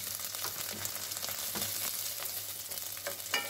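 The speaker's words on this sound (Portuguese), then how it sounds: "vou jogar então as minhas linguiças" Linguiça sausages sizzle and fry steadily in a hot pan with bacon, a continuous close crackle with occasional stirring clatter, no voices.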